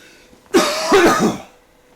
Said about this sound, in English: So I'm going to cough one more time.